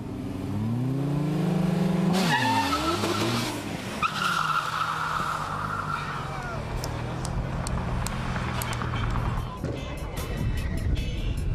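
At a burnout contest in Saxony, a car engine revs hard while tires squeal and skid continuously through a long burnout, with the roar rising and falling and a crowd faintly behind.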